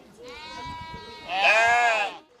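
Sheep bleat in Merak, Bhutan, where households keep small flocks for wool: a wavering bleat that swells into a louder, nearer second bleat, heard alone without talk.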